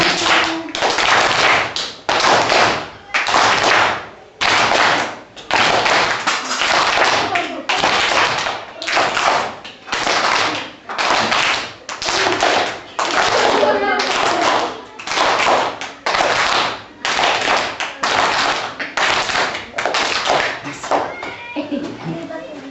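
Children tap and clap rhythmically to imitate heartbeats in a classroom activity, a long series of evenly spaced, fairly loud bursts of many hands, with occasional small voices underneath.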